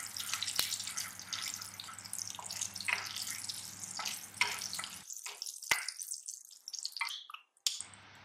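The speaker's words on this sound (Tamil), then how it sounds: "ஒரு டைம் ஃப்ரை பண்ணி எடுத்துக்கலாம்." Spices and a dried red chilli fry in hot oil in a pan, a soft crackling sizzle with scattered pops that cuts off partway, leaving near silence and a few faint clicks.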